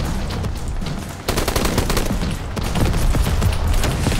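Dense, continuous gunfire from a toy-soldiers battle video game, a loud unbroken barrage of overlapping shots and machine-gun bursts with a brief dip before the firing swells again.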